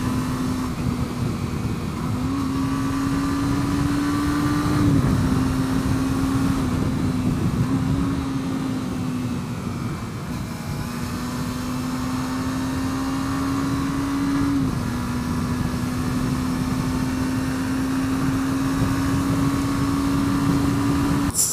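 A stock-exhaust Suzuki GSX250R motorcycle engine drones steadily at speed while being ridden, its pitch rising and falling slightly across gear changes, loud and close with wind rush throughout.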